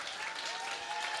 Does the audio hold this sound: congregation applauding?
yes